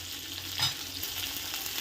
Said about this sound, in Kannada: ಈಗ ಇದನ್ನ ಚೆನ್ನಾಗಿ ಫ್ರೈ ಮಾಡ್ಕೊಳ್ಳೋಣ ಈರುಳ್ಳಿ ಸ್ವಲ್ಪ ಚೆನ್ನಾಗಿ ಗೋ ಒಂದು ಸ್ವಲ್ಪ ಚೆನ್ನಾಗಿ ಫ್ರೈ ಆಗಬೇಕು